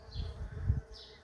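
Non-stinging male bees buzz around bee hotels on a sunny south-facing garden wall, a low steady hum that swells and fades as insects pass close by, with no voices.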